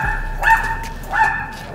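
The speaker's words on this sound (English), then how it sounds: "Now this dog's barking at us." A dog barks twice at fairly close range, two short sharp yips about half a second apart, over a steady low background hum.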